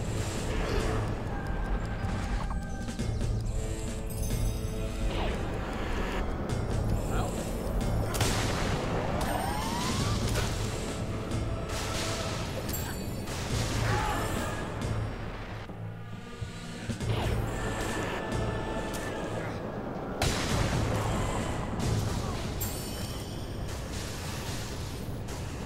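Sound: explosions from a destruction spell in the Fable video game

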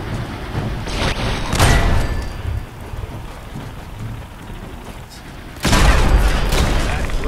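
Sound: turret gunfire in a video game, Fallout 4 Nuka World

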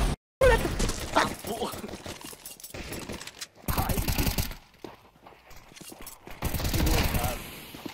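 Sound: gunfire in Counter-Strike 2 video game

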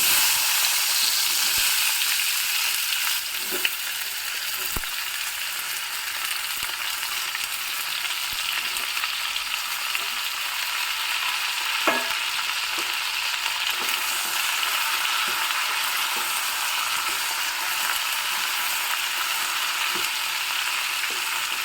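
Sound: chopped ivy gourd and curry leaves frying in a pan

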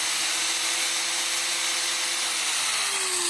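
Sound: angle grinder running idle

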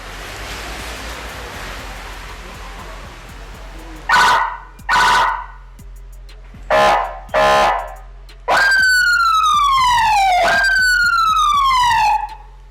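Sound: professional police-style car siren

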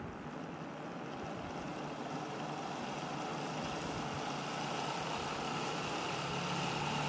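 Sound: three-stage BLDC motor running on second winding

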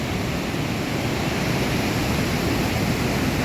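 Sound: turbulent rushing water

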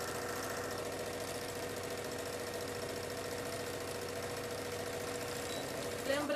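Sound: sewing machine stitching a doll part

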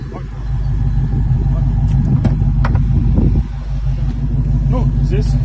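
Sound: Dodge Challenger engine sound

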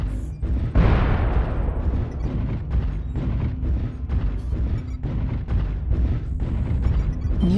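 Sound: incoming missile explosion in video game MechWarrior Online

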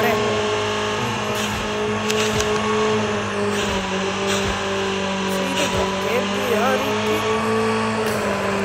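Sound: motorbike riding in the video game Call of Duty

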